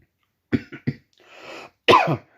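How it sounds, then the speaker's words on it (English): A few short coughs followed by a rasping throat-clearing and a final harsh cough, close and otherwise quiet. "because I'm coughing, it's not a new cough"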